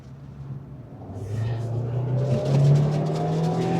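An MG car drives fast on a small test track at a ride event, its engine droning and rising in pitch as it accelerates, fairly close, with a rumbling road noise underneath.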